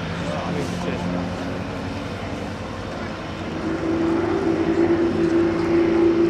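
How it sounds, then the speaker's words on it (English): Three Royal Jordanian Falcons aerobatic aircraft flying a line-abreast loop at an air show at Waddington, a loud steady engine drone that rises in pitch and strength toward the end. "you see the 3 aircraft there performing that rather nice line abreast loop"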